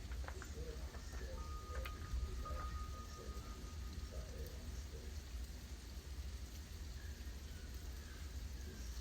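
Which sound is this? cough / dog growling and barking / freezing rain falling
freezing rain falling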